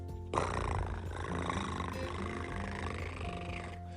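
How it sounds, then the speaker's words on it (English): A continuous low, rumbling purr, steady and close, with a soft tonal hum running through it. "Do you know what it means when a kitty purrs?"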